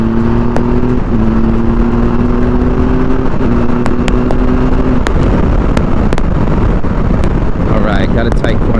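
Triumph Tiger 1200 adventure motorcycle engine rising under throttle, a loud close drone that climbs in pitch in steps, heavily buffeted by wind roar at the rider's microphone.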